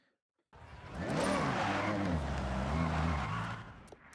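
A car engine in Forza Horizon revs up loudly and holds a rising, droning roar for a few seconds, with tires squealing over it.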